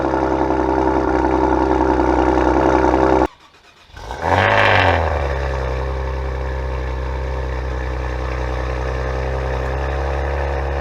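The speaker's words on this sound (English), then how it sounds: "Now, the sound that comes from the twin turbo V6 in the Maseratis is immaculate." A Maserati twin-turbo V6 fires up from cold: a steady loud idle is cut off, then the starter whirs briefly and the engine catches with a rising rev flare before settling into a high, even cold-start idle, close and alone.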